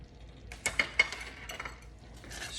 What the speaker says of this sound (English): Just want to stir these in so they're nice and melted and incorporated.